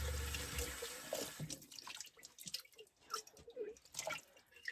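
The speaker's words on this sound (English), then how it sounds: "Hot running water." Hot water running from a tap into a small sink in a camper van, an initial gush followed by splashing and irregular drips, close and quiet, with no voices.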